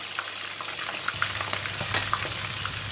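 Ikan cencaru fish deep-fries in a pan with a steady, moderate sizzle, scattered crackles and a few sharper pops near the end, heard close with no voices.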